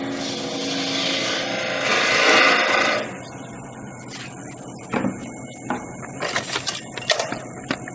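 A tool scrapes against hard cherry burl spinning on a wood lathe as the outside of the piece is shaped. A close, steady rasping cut swells for a few seconds, then breaks into scattered light scrapes and taps.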